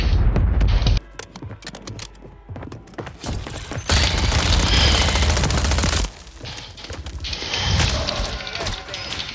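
Rapid bursts of video game gunfire pelt the player in a shooter match, loud volleys mixed with heavier booms and scattered single shots, close and intense, while players talk over the combat.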